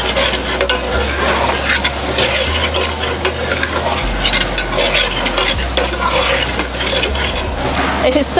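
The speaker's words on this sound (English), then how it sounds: "we're just going to give this a good stir until all that flavor comes out" Onions stir-frying in vegetable oil with curry leaves in a pan for a curry, a steady close sizzle with repeated scraping and stirring strokes throughout, no talking.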